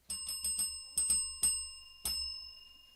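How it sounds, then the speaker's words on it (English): A small hand bell is rung during a livestream, a series of bright metallic dings in quick bursts with a lingering ringing tone, close and clear with no talk. "I'll ring the bell over here. 3, 2, 1."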